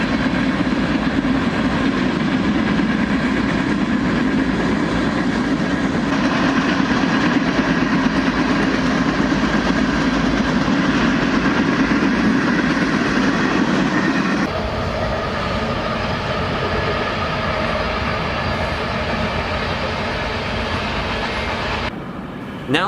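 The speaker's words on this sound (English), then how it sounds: "You can definitely hear the freight trains when they pass by," A freight train rolls past the Wigwam Motel on Route 66 in Holbrook, Arizona, making a loud, close, continuous rumble with clattering wheels. The sound shifts in tone partway through and carries on for over twenty seconds, with no talking.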